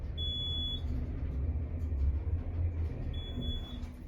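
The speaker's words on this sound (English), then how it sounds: "Hear that chime again." Two-tone electronic chime of a Dover hydraulic elevator at CU Hellems Arts & Sciences building in Boulder, two short bright tones separated by a few seconds over a steady low cab rumble.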